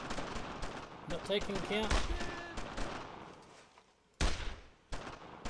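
Gunfire in the World War II shooter Brothers in Arms, with rapid rattling shots that fade to a lull, then two loud close cracks near the end, all under people talking.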